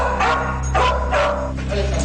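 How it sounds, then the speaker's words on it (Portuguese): Sniffer dogs searching a house bark in a quick series of four or five sharp, close barks at an even rhythm over a low steady hum, and no one speaks. "Os cães assinalaram 2 locais na casa"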